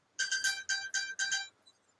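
A mobile phone ringtone plays as a short burst of bright, repeating electronic tones in a quick rhythm, fairly clear and close, then stops, with no talk over it.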